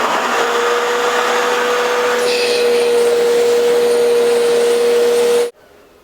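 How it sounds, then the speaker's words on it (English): A woodshop dust extraction vacuum runs with a loud, steady whine and rushing airflow close by, holding constant for several seconds before cutting off abruptly. "the dust extraction can't really collect all the chips"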